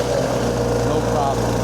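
A VMENG 25HP mulcher engine runs at 2,300 RPM, a steady, close, even drone with a low hum beneath it and no break in the sound.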